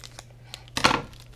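Grossery Gang toy packaging is torn open by hand, with a few faint crinkles, then one brief, loud ripping tear up close.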